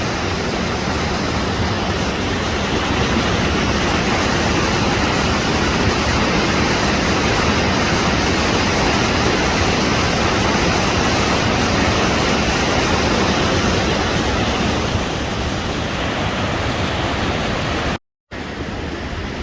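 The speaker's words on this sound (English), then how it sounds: "Okay, got another falls here." A powerful mountain waterfall on the Beartooth Highway pours heavy water in a steady, dense roar that stays loud and unbroken throughout, close by, with no talking over it.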